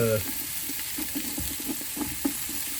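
Soup ingredients for chicken noodle soup brown in a large pot, giving a close sizzle broken by soft stirring clicks and scrapes over a few seconds.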